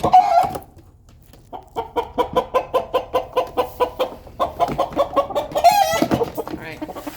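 Problem roosters crow and cluck loudly while being moved into a large crate, rapid repeated clucks building into crowing bursts close by, with some voice underneath.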